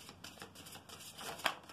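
Tarot cards are shuffled close by, soft rapid riffling and sliding bursts with a sharper snap near the end, faint and without speech.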